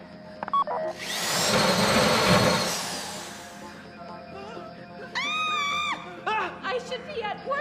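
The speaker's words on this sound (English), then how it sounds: "How you doing with that drill?" A drill whirs loudly during a GTA V heist, a dense grinding burst lasting a few seconds, followed by short electronic tones and voices talking over lighter mechanical noise.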